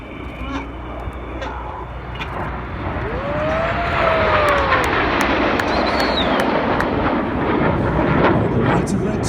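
Red Arrows jets flying a loop in Cygnet formation at a New York air show give a broad roaring jet rush that builds and grows louder midway, then holds steady and loud to the end.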